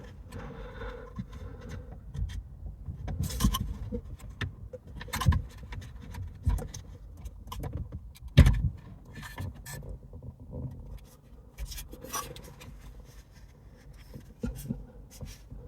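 Plastic clicks and scraping as the stereo trim on a Toyota Auris is pried loose by pressing its retaining tabs, with several sharp snaps and a louder pop near the middle over a quiet interior.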